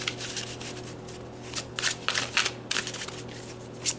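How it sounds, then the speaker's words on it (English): Tarot cards being shuffled in quick, soft riffling bursts, close and fairly quiet, with no talking. "Okay, so let's keep shuffling."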